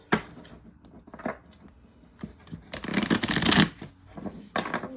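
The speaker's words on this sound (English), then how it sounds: "I guess I didn't shuffle properly because that was all the same cards" A deck of tarot reading cards is shuffled by hand in close, papery bursts, with a few short riffles and then a longer, louder run of flicking cards. No one speaks.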